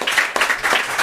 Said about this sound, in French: Vous pouvez applaudir Gianni.